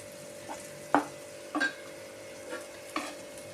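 Garlic, ginger and curry leaves stir-fried in a pan for a prawn butter fry, heard as faint sizzling under a few light scrapes and clinks of a spatula at uneven intervals.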